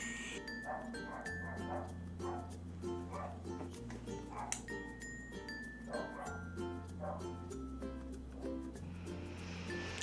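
Three small dogs in an upstairs neighbor's apartment bark and yip repeatedly in scattered bursts, fairly faint and distant over a steady background tone.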